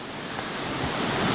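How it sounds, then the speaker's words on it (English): A loud river rushes right beside a campsite in the Skagit Valley, a dense, steady roar of flowing water that swells slightly toward the end, with no voices over it. "We're right on the river, so it's pretty loud."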